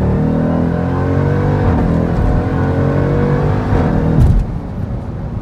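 Jeep Trackhawk accelerating hard while merging onto a highway at rush hour, its engine roaring loudly and steadily from inside the vehicle, the pitch climbing and shifting before easing off near the end.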